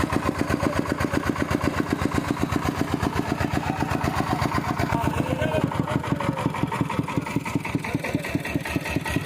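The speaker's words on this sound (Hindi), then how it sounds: "तो देख सकते भाई, इंजन स्टार्ट कर दिया है ये।" Boat engine on an Indus River passenger ferry chugs with a steady rapid pulsing rhythm throughout, close and loud, with people talking faintly under it.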